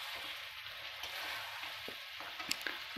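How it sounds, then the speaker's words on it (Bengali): Chicken curry with potatoes sautéing in a pan, a steady soft sizzle running throughout with a few faint spoon taps near the end. "আবারও আমরা কষবো।"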